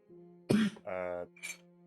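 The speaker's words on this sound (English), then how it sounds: "That's just how I cough." A man coughs once, a short harsh burst near the mic, followed by a longer voiced throat sound and a faint breathy trailing noise, over a steady low hum.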